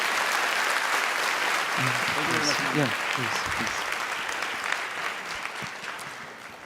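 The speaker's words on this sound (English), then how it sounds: "a big applause for the third finalist" Loud, continuous applause from an audience at a national sommelier competition final, with a man's brief spoken words cutting through midway before the clapping tapers slightly.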